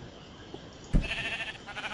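A sheep bleats in the video game Minecraft, a single close, fairly loud cry arriving suddenly against a quiet background.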